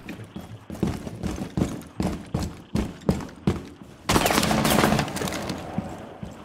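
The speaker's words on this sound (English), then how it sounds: "all that gunfire." Gunfire in Rainbow Six Siege: a series of sharp, separate shots at irregular intervals, then a sustained burst of rapid automatic fire, fairly close, with no talking.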